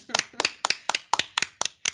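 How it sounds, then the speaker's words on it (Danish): Eight crisp, evenly spaced hand claps come from a small audience in a fast steady rhythm, close and distinct with brief silences between them. "Jeg tænker lige, vi klapper en gang derude"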